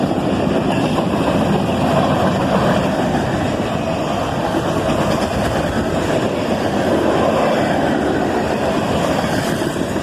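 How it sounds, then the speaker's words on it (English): Freight train of covered hoppers with horizontal side reinforcement bars rolling past at night, a steady loud rumble and rattle of railcars filling the whole stretch without pause. "Here are some interesting covered hoppers with horizontal reinforcement bars on the side."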